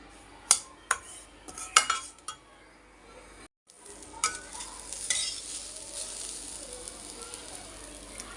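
Semolina dry-roasts in a kadai as a spoon stirs it, with repeated sharp metal scrapes and clinks against the pan over a soft continuous sizzle and a brief pause midway.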